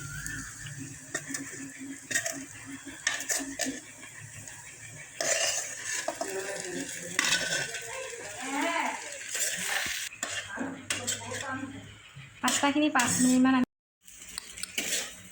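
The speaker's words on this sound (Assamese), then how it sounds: "ইয়াত 2 মিনিটমান এইখিনি ভাজি ল'ব লাগিব" Onions and spices sizzle in a pan while a utensil scrapes and clatters against the metal in repeated stirring strokes, with brief clanks near the end.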